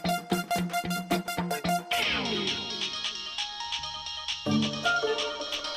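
Phone ringtone chiming while a call to mother is placed, a bright repeating melodic tone that shifts pattern partway, loud and alone.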